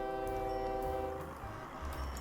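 Train in the video game OpenTTD, a steady layered horn-like tone over rumbling rail noise with faint periodic clicks, heard alone.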